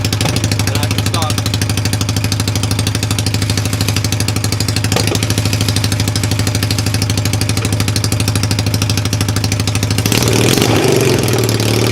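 A cheap used ATV engine with worn-out clutches runs close by at a loud, steady idle with a rapid, even chugging pulse, and the sound roughens and rises near the end.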